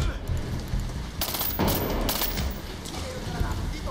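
Gunfire in the video game Medal of Honor: Warfighter, with bursts of rapid automatic shots in a couple of clusters, moderately loud over a background of game ambience.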